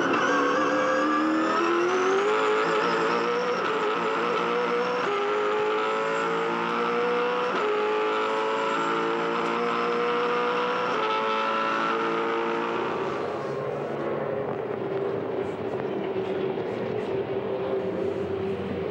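V8 Supercars race at the Sandown 500 in 2007, with a loud, sustained engine roar that climbs in pitch through the gears and then drops away as the cars pass.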